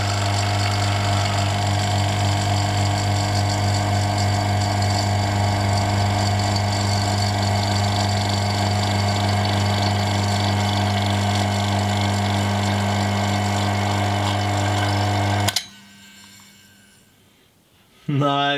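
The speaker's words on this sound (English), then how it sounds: "Let's turn on the pump again." A vacuum pump runs steadily on a vacuum chamber holding beer, a loud continuous motor drone with a strong hum, then cuts off abruptly near the end, leaving a faint hiss and near silence.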